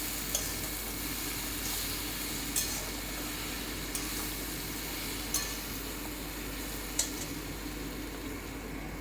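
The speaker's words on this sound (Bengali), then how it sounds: "দিয়ে আর একটু ভালো করে কষিয়ে নিচ্ছি।" Okra curry with mustard and green chilli paste sizzles as it is stir-fried in a pan. The soft, steady frying hiss goes on throughout, with a few sharp clinks of a spoon against the pan.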